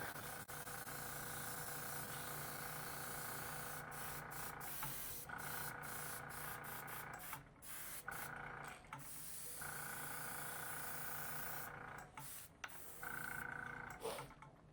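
An airbrush sprays paint onto a jerkbait fishing lure, giving a continuous airy hiss that stops and restarts in short breaks, with brief pauses and bursts near the end.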